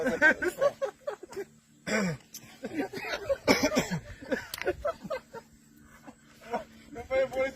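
A person coughs and clears their throat several times in short bursts, with pauses between, close to the listener.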